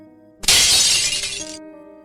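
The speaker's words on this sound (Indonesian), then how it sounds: "Terdengar suara piring atau semacam benda yang pecah." A plate or similar breakable object smashes loudly. The sharp crash is followed by a second of scattering, ringing shards over a faint steady hum.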